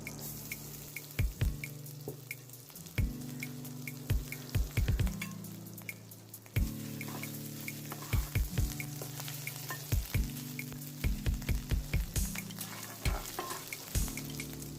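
Grated ginger sizzles and spits in a hot pan while a utensil clacks and scrapes repeatedly against it in irregular bursts.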